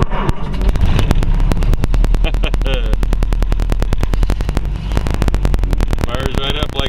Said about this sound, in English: Fires right up like it has every time I've started it.